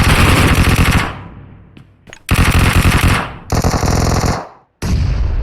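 Automatic gunfire in the mobile game PUBG Mobile, loud, sustained bursts of rapid shots broken by short gaps, with a few faint single shots in between.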